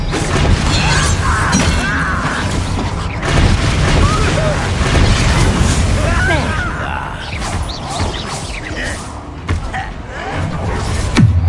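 Spell impacts and magical bursts from the Expelliarmus disarming charm in the Hogwarts video game, a dense run of shattering crashes and booming hits over constant battle noise, with voices talking throughout.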